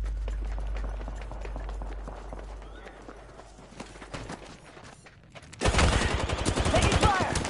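Gunfire in the battle royale game Apex Legends, a sudden dense burst of rapid shots erupting loud and close after a stretch of quieter game ambience and movement.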